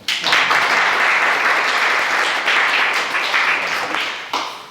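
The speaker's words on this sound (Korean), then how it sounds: "박수 쳐도 됩니다." An audience at a forum on Syngman Rhee, the first president of South Korea, bursts into sustained applause, dense and loud clapping holding steady for several seconds before a brief dip and a final swell.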